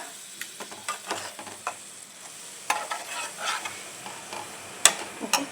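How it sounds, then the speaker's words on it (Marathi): Spice masala roasting in oil in a pan for a dhaba-style brinjal fry, with repeated scraping stir strokes and a soft sizzle, close and moderately quiet, a sharp clink near the end and no talking. "2 ते 3 मिनिटं हा सगळा मसाला आहे तो भाजून घ्यायचा आहे आपल्याला"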